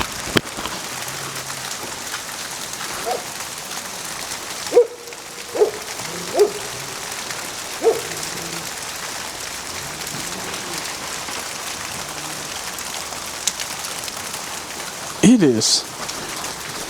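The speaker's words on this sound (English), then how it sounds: "All the ice with all this rain is causing everything to melt and falling off the trees" Steady rain pours during a winter storm as melting ice breaks loose and drops from trees, a constant dense hiss broken by a few sharp thuds and cracks, with a brief voice and scattered noises.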